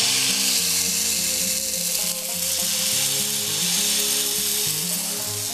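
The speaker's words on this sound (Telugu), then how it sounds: "ఇప్పుడు దీని మీద ఇలా దోశ వేసుకోవాలి." Atlu batter made with buttermilk and flattened rice sizzles on a hot pan, a steady bright hiss running throughout with low musical tones underneath.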